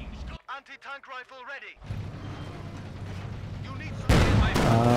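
Mortar fire in Company of Heroes 2, with a loud, harsh blast near the end, following a stretch of voice and steady battlefield rumble.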